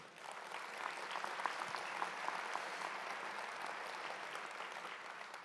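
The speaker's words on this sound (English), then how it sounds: "Give yourselves a round of applause because this is an amazing room." A room full of guests applauds at a trade show luncheon. The clapping is steady, sustained and evenly dense, and sounds somewhat distant, with no voices over it.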